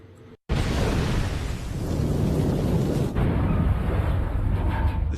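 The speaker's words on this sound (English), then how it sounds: "It was an enormous explosion" A torpedoed ship exploding at sea in a wartime account: after a brief drop to near silence, a sudden massive blast bursts in and gives way to a sustained, loud, rumbling roar that continues to the end.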